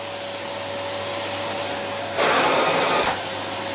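An Amazon Basics bagless cylinder vacuum cleaner, 2.5 L and 700 W, runs with a steady close whine and drone, its suction note briefly rising in pitch and loudness near the end, with no voices.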